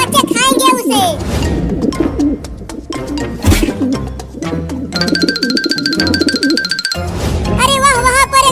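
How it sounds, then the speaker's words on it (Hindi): A cartoon pigeon coos with soft, repeated warbling calls, mixed with lively cartoon voices, effects and music throughout. "वहाँ पर एक कबूतर जमीन पर चल रहा है।"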